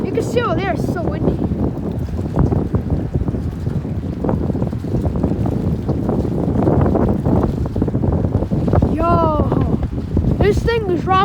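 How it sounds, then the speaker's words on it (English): Loud, steady wind buffets the microphone on a shaking beach dock in a windstorm, with waves faintly beneath and people speaking over the roar. "It's so windy."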